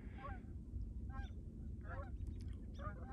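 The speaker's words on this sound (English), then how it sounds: "this is geese, and the geese have their babies" Geese honk repeatedly in short nasal calls, a few birds nearby over a low, steady outdoor rumble.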